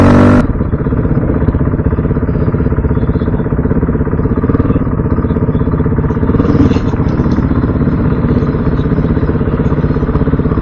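Dirt bike engine running on light, steady throttle while crossing a rutted wooden bridge, a close, even, buzzing drone with a brief rise partway through.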